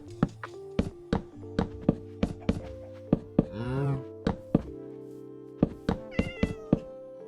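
Cat meowing in the Minecraft video game, a series of short, fairly loud game meows repeated at an uneven rhythm alongside clicks and taps of gameplay, with one longer drawn-out mew in the middle and no talking.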